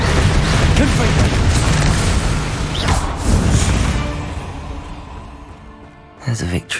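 Confringo blasting spells explode in Hogwarts Legacy combat: dense, rumbling booms and crashes fill the first seconds, then fade before a few sharp bursts, with a voice shouting over the fight.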